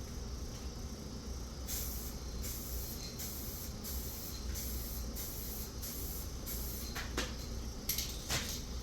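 An aerosol spray paint can sprays in a series of short hissing bursts with brief gaps between them, painting a car bumper, fairly quiet against a low background rumble.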